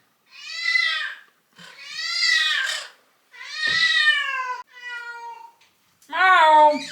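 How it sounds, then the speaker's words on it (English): A deaf cat meows loudly indoors, five long, drawn-out wailing calls with short pauses between them, close and clear with no talking. "My deaf cat there. She's deaf as a doorpost, so she can't find us, she screams."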